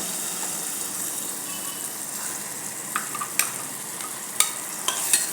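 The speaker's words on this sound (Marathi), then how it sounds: "हा मसाला थोडं तेल सुटेपर्यंत आपण याला भाजून घेऊया" Masala with chicken masala, for an egg gravy, roasting in oil in a pan, giving a continuous bright sizzle with a few sharp pops and scraping stirs, close and alone.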